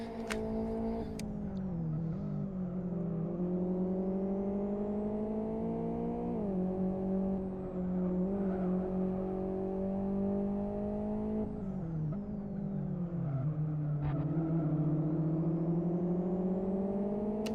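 Race cars in the Live for Speed game accelerating out of a narrow corner, with engines revving continuously under sustained load, pitch rising and falling with gear changes and occasional whirring passes close by.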